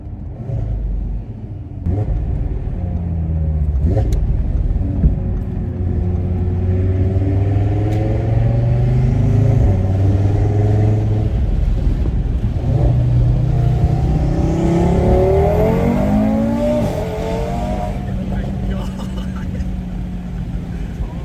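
Audi RS3 accelerating hard from inside the cabin, with the tires spinning for traction, a loud sustained engine rumble rising and falling in pitch across several gear pulls, with voices talking over it.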